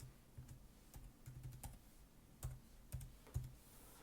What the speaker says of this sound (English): I'm just going to type in narrator.